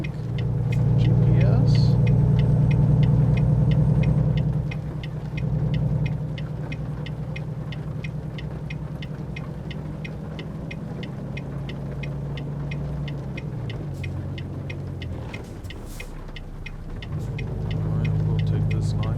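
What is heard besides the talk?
heavy truck accelerating in video game American Truck Simulator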